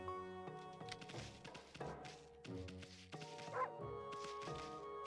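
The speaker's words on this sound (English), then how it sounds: "We are dog. Bark, bark." A dog in the video game Okami HD gives a few short, yipping barks, quiet and mixed with tonal game sounds, with no talking.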